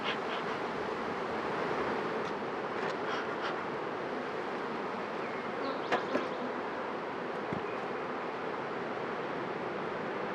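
Honeybees swarm around an opened beehive during a hive split, a steady close-up drone of many wings with a few light knocks and clicks from handling the frames.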